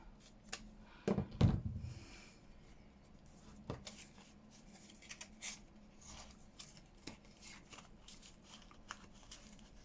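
Scissors cut through a piece of card for decorating tags: a brief, close handling clatter, then faint, scattered snips and paper rustles, all quiet.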